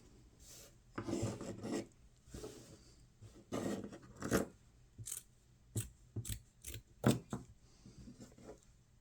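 Scissors cutting a fabric circle for a yo-yo, a series of quiet, close snips and rasping blade strokes in irregular bursts, with no talking.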